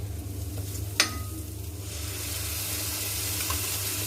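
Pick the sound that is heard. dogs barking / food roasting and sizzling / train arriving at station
food roasting and sizzling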